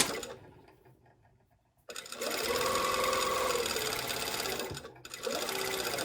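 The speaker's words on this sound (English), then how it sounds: "I'm going to sew it at 1/4 of an inch." Sewing machine running a steady quarter-inch seam on a garment, starting after a faint lull and then whirring loudly and continuously at close range with a brief stop near the end.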